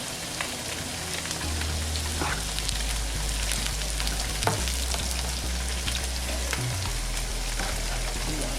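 Loud, constant sizzling of potatoes frying in a hot pan, close up, with occasional scrapes and stirring sounds; no voices.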